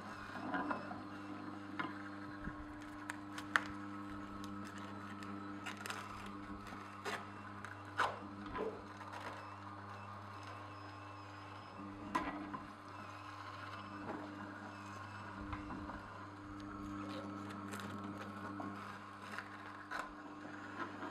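An Omega TWN 32 twin-gear juicer presses produce, giving a quiet, steady mechanical hum with faint rubbing and creaking as the gears pull the food in, broken by occasional small clicks and knocks, close and low in level.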